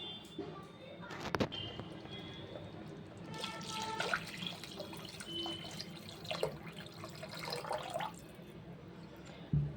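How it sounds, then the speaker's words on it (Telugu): Water is poured into a pot of pepper rasam with tamarind pulp, a faint splashing and trickling that rises in the middle and fades, set against quiet kitchen background noise. "ఒక త్రీ గ్లాసెస్ వాటర్ యాడ్ చేసుకుందాం"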